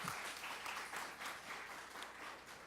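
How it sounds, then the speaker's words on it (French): An audience applauds a speaker at a career-choice event, a short, faint burst of scattered clapping heard alone without voices. "je vais demander pour nous applaudir Will Gaspard"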